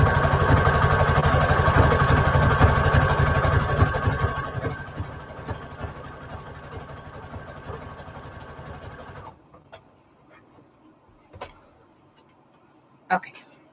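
An electric sewing machine stitches lace onto an index card with a fast, steady mechanical whir that runs for several seconds and then stops, followed by a few faint taps and handling sounds.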